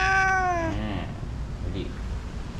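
A cat lets out one loud, drawn-out meow up close at the start, followed by a quieter second cry, during a typhoon morning indoors, with low background rumble afterward.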